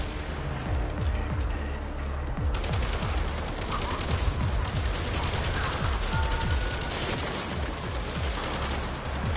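Rapid turret fire rattles nearly nonstop in Toxic Commando, a dense stream of sharp automatic shots over heavy rumbling combat noise, with occasional faint voices beneath.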